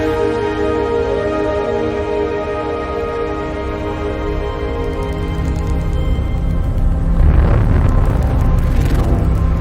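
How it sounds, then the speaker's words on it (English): Sonified gravitational waves from a light black hole falling into a much heavier one form a loud, dense, continuous rumbling drone with layered hum tones, swelling toward the end with repeated banging bursts. "The sound you're hearing is a light black hole banging on space each time it gets close."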